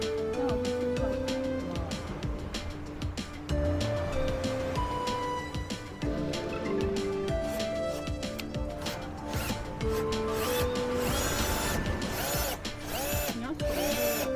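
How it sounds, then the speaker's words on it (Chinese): A power drill bores a screw hole into wood while a camper is being modified at a campsite, whirring in repeated bursts with scraping and rattling in between, fairly close. "你只要有一个洞给开洞给螺丝下去就 OK 了"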